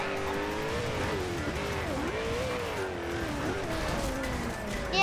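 Porsche sports car racing in the Forza Horizon 2 video game, a steady loud engine drone with shifting pitch sweeps as it accelerates and eases off, with faint tire noise and some game sound mixed in throughout.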